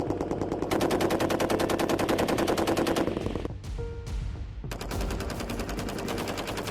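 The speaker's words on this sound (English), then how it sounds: "designed to familiarize soldiers with the M240 machine gun." Rapid bursts of automatic fire from an M240 7.62 mm gas-operated belt-fed machine gun during Army infantry training, loud and close, with a brief pause before firing resumes.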